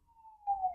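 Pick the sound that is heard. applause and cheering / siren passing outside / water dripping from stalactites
siren passing outside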